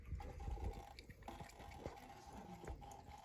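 Water trickles and splashes softly and continuously, faint and close, with small irregular drips and gurgles.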